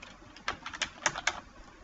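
A short run of computer keyboard keystrokes, a handful of separate clicks in uneven rhythm, close and fairly quiet.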